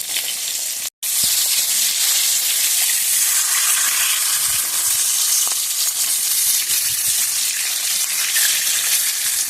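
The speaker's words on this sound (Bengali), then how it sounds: "তো সবাই মাছটা ভেজে নেই" Hilsa fish fries in hot oil with a steady, loud, dense sizzle and crackle that runs throughout, broken only by a brief dropout near the start, with no talking.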